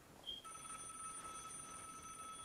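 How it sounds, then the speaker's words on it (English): An in-game telephone rings in Vigor, a steady electronic bell tone that starts after a brief chirp and holds continuously, faint against a low background hum. "Ah, the phone's ringing."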